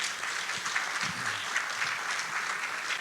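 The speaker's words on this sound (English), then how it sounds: "So if we could give him a big round of applause" Audience applause at an opening session of a tire company's street-driving safety summit, steady dense clapping from a crowd filling the room for about three seconds, no talking.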